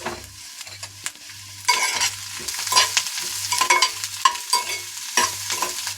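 Dried red chillies fry in a pan with steady sizzling and spoon-stirring scrapes, ending in a brighter, denser crackle. A low rhythmic hum pulses throughout. No voices.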